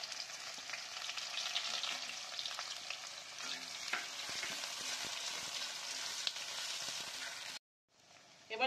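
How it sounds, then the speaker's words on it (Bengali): Onion fries in hot oil in a pan with a steady, dense sizzle and occasional stirring clicks, continuous until a brief drop near the end. "এবার আমি এতে পেঁয়াজটা দিয়ে দেব।"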